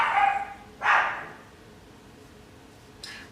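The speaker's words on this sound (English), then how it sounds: "but then there's my dog going crazy." A dog barks excitedly, with two quick loud barks close together and a fainter third bark a couple of seconds later.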